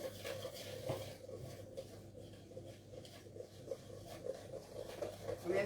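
A spoon stirs sweet waffle batter made with milk in a bowl, with faint, soft, irregular scraping and clinks close by and quiet background noise.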